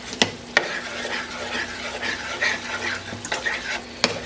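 A utensil stirs strained tomatoes into rice frying in a pan, making a continuous sizzle broken by several sharp scrapes and knocks against the pan, with no talking.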